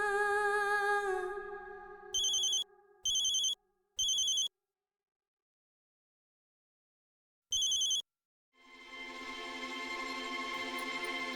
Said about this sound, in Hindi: क्या मानसी फोन क्यों नहीं उठा रही?